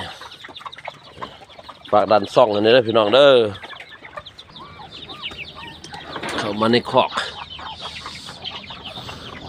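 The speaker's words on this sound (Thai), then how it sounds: "อันนี้ไก่ลูกซอดไก่ลาด ไก่บ้านๆครับ" Native Thai village chickens in a pen, several loud clucks and rhythmic cackling calls in bursts, with someone talking over them.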